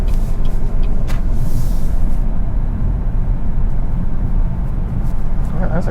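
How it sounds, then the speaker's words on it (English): A camper van rolls past on a small-town street in Lightning Ridge, a loud steady road rumble with engine drone dominating throughout, and faint voices beneath it. "Oh, that's a camper van and a half."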